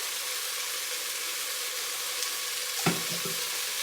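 Chili ingredients fry in a pot, a soft steady sizzle with faint stirring, then a brief clatter of a utensil near the end; no talking.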